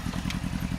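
A motorcycle engine chugs close by with a steady low pulsing rhythm, a brief clatter cutting through midway.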